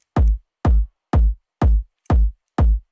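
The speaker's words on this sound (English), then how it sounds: "So I have obviously a kick drum," Six punchy kick drum sample hits from an electronic music production project, evenly spaced about half a second apart, each a deep thumping boom with a sharp attack and quick decay, clean and alone.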